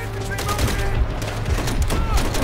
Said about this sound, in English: I'm sorry, I shot someone.